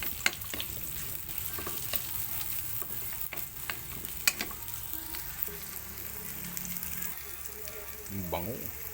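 Dried fish (tuyo) fries in a pan with onions, giving a continuous crackling sizzle broken by sharp pops and the scrape of stirring, while a voice briefly speaks near the end.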